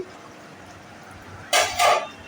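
A metal lid comes off a cooking pot of elephant foot yam curry with two quick scraping clanks in succession, close and fairly loud against a quiet kitchen.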